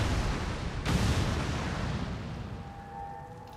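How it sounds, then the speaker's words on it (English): Detonated charges blow in XCOM 2 with a deep rumbling blast, a sharp burst about a second in, then a long fading roar as a faint tone rises near the end. "Detonating charges."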